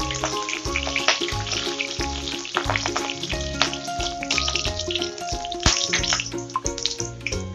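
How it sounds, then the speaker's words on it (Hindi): Garlic fries in hot oil in a home kitchen pan until light brown, a steady crackling sizzle with irregular pops, close and moderately loud with no talking. "लहसुन को हम हल्का ब्राउन होते तक तलेंगे।"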